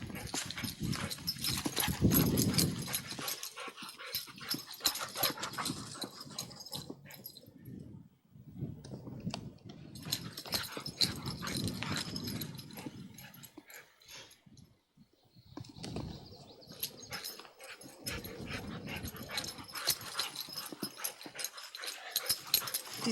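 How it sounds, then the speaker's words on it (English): Dog getting exercise outdoors, with busy scrabbling, rustling and panting and a few scattered whimpers, near and moderately loud, in bursts separated by brief quieter pauses. "Al giving the dog exercise before we leave on our trip."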